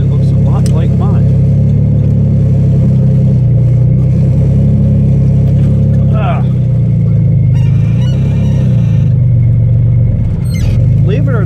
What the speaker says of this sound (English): I actually do want to quiet this truck down some. I don't want it this loud.